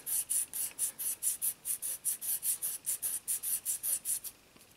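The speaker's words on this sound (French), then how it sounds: "Et elle fonctionne vraiment bien, cette lime." A hand file rasps across a plastic model car body, a Liberty Walk LB Ferrari 458 kit, in about twenty quick, even back-and-forth strokes, close and crisp, then stops.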